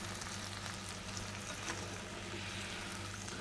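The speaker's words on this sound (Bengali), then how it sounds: "এখন আজকে লইট্টা মাছগুলোকে ভাজি নেই।" Loitta fish frying in spiced masala in a pan, a steady close sizzle with faint stirring, no voices.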